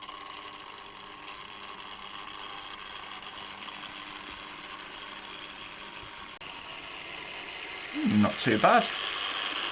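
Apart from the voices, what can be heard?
Hornby Class 142 Pacer model train running on track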